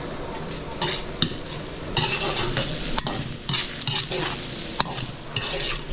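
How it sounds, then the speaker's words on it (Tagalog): Garlic, onion and ginger sautéing for ginataang laing: a continuous sizzle broken by repeated scraping strokes and sharp clinks of a utensil against the pan, close and busy, without talk. "pinayaan muna natin maluto yung bawang sibuyas, luya natin"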